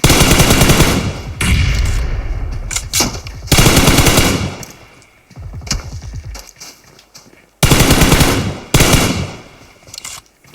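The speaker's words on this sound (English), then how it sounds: "Propane is now rotating around the side to try and get some shots on Loz." Loud bursts of automatic gunfire from PUBG in a competitive duo clan championship match, several heavy volleys with short gaps between them, a commentator's voice faintly beneath the shooting.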